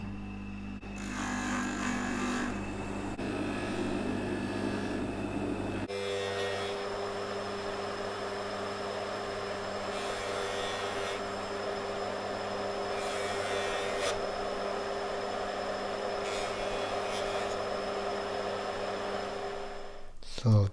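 A stitch mop buffing wheel polishing a Seiko watch case, giving a steady motorized whir with rubbing bursts as the metal is pressed against the spinning mop, running continuously at a moderate level.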